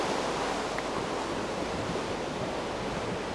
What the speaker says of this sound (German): Oh, jetzt regnet es.